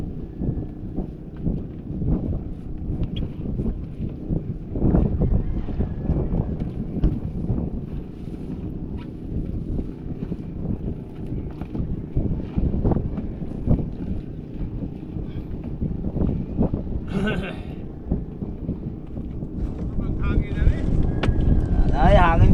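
Strong wind buffets the microphone outdoors, apparently on a boat on open water, a loud rumbling roar that gusts and swells throughout, with people talking under it.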